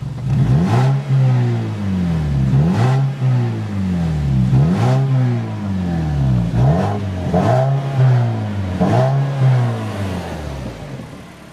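A 2014 Mazda3's 2-liter four-cylinder engine revs up repeatedly, rising and falling in pitch in a steady series of pulls, loud and close.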